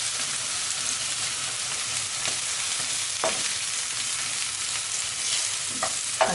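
Lamb chops fry in a pan with a steady, close crackling sizzle, a few louder pops and spits standing out now and then over the constant hiss.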